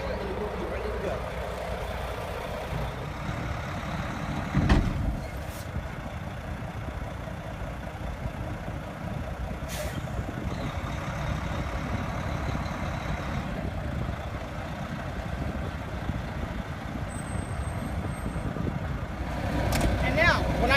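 A semi truck engine rumbles steadily as the tractor pulls away from a trailer after its fifth wheel is unhitched, with a louder clunk partway through and the engine droning on close by.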